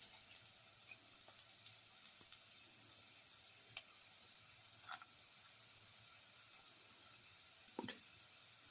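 Cumin seeds sizzling in hot oil for a winter melon and cumin chicken curry, a soft steady frying crackle with a few faint pops and clinks.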